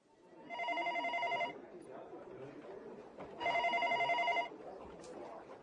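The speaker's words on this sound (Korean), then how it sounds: "한국산업은행 본점으로 한 통의 전화가 걸려왔다." Telephone bell ringing with an incoming call at a bank head office in the early 1980s, two clear one-second bursts of bright electronic trilling separated by a pause, over faint background murmur.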